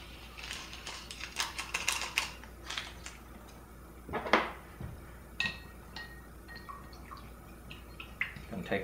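Granulated raw sugar is stirred into a liquid for a conductivity test, giving close, irregular light clicks and scraping taps that come in uneven bursts with quiet gaps between them.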